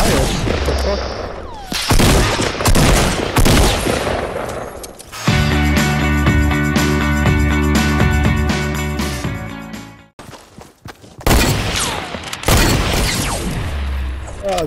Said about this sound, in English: Someone fired.